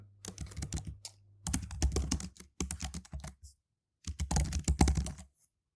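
Typing on a computer keyboard, quick clusters of close, crisp key clicks in several bursts separated by short pauses.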